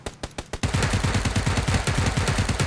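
Gunfire in the video game Battlegrounds, a few separate shots followed by a rapid, loud burst of automatic fire that keeps going steadily.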